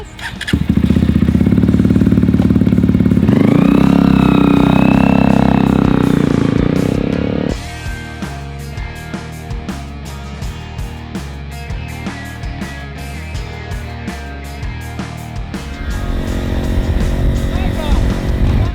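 A modified Junak motorcycle engine revs loudly up close, with a rising rev in the middle, then settles into a steady, lumpy idle before picking up again near the end, recorded outdoors in the rain.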